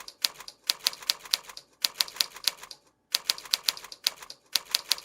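Rapid clicky keystrokes in short bursts on a keyboard during a typing game, each burst about a second long and separated by brief pauses, loud and close with no talk.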